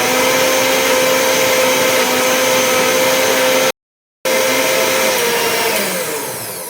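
A kitchen mixer grinder whirs loudly with a jar of thick cream and added water for homemade ghee, running steadily, cutting out briefly, then starting again and slowly easing down.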